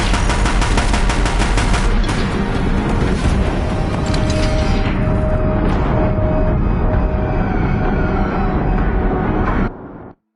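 Heavy, continuous automatic gunfire from Deathbringers in a PS4 video game, loud and dense with rapid overlapping shots and booms, running without a break for nearly ten seconds before cutting off abruptly.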